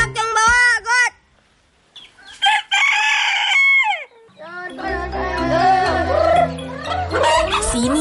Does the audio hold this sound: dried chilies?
no